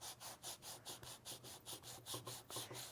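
Heavy-grit sandpaper on a small sanding pad rubs across a copper sheet in quick, even back-and-forth strokes, about a dozen faint rasping swipes in a steady rhythm, close and alone.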